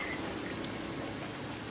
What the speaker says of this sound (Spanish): Mira cómo está lloviendo, qué pasada.